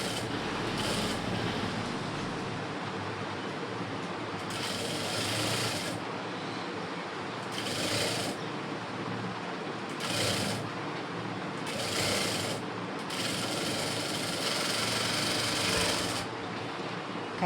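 A sewing machine stitches a blouse sleeve in short bursts of a second or two, separated by brief gaps over a low steady hum. It is close and fairly quiet, and no one talks.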